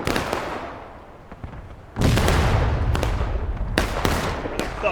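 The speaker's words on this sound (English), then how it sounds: "Looks like Union got hit, or CSA got hit pretty hard by artillery over there." Artillery fire in the War of Rights video game: heavy booming blasts with long rumbling tails, one big close impact followed by several sharper distant-sounding shots in quick succession.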